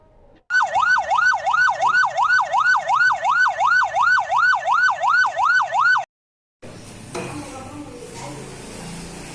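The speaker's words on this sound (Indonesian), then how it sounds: "tiba-tiba terdengar suara sirine ambulan yang menuju ke puskesmas tersebut" An ambulance siren wails in a steady rising-and-falling pattern, loud and continuous for several seconds, then cuts off to a noisy background rumble.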